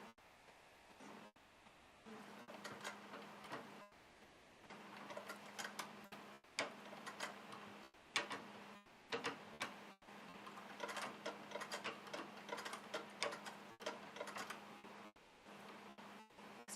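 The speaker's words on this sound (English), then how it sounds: "We're just doing our favorite satin stitch." A sewing machine works a satin stitch for machine-embroidered jewelry, giving a quiet, steady tick-tock needle rhythm in several running bursts split by short pauses, with no talking.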